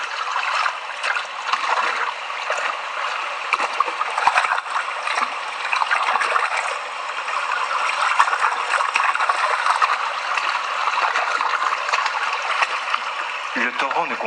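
The young, icy mountain river Sanhua, fed from a high-altitude source, rushes and trickles steadily throughout, a continuous close hiss of flowing water, with a brief low thump near the end.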